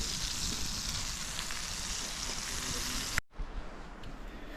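Burgers sizzle on a camp stove at a wild campsite in heavy rain, a close steady frying hiss that cuts out briefly near the end, then resumes more quietly.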